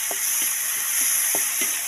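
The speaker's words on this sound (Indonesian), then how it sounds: "Nah, langsung Pak Ginting goreng cabai ya." Chili peppers fry in a pan at night in a forest, giving a steady close sizzle with a few soft pops and stirring knocks, and no talking.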